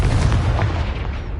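A Confringo fire-blast spell booms in Hogwarts Legacy on PS5, a loud, dense burst of low explosive rumble and crackle lasting just over a second, with no talk.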